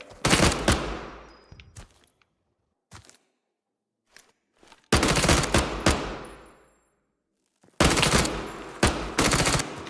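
Three loud, close bursts of 9mm automatic gunfire in the shooter game Incursion Red River, each a rapid stream of shots trailing off into echo, with single isolated shots and quiet gaps between the bursts.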